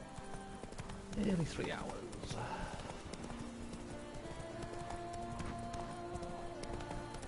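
Roach, a horse in The Witcher 3 video game, clip-clops along with steady hoofbeats and a brief neigh early on, the hooves continuing under a voice talking.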